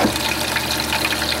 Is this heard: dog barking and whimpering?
no